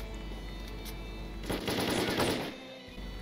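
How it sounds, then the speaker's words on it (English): Automatic gunfire bursts in the video game STALKER, loud and dense, swelling in the middle of the stretch over steady background game ambience with no talk. "This guy was shooting me through the window."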